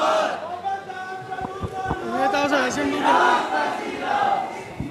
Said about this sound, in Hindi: आप लोग देख रहे हैं कितनी भीड़ लगी हुई है इस टाइम और लोगों ने अभी तक नारे लगाए हैं।